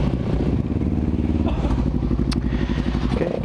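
A motorcycle engine idles and rumbles steadily up close, likely the Yamaha R25 or Honda Supra X, with a dense low throbbing that holds throughout and a brief clattery scrape partway through.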